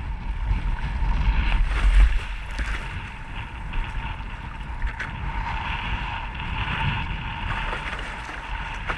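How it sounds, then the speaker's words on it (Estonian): Waves roar steadily behind the recording on open water, a continuous wash of surf with wind buffeting the microphone, loudest in the first two seconds and then holding a constant rushing level. "Kui on kuulda laine kohinat tagant"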